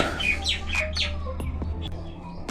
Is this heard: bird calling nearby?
yes